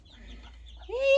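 A chicken in a coop gives a short, close cluck near the end of a brief, otherwise quiet moment.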